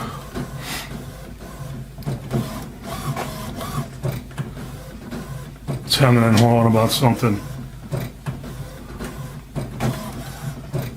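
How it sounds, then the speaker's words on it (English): Mechanical whirring and clicking of the print head on an HP OfficeJet Pro 8720 inkjet printer sliding back and forth, loudest in a brief burst, with someone talking over it. "You can hear the print heads going back, the cartridges going back and forth."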